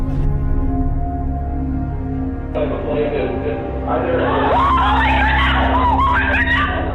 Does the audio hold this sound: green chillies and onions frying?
no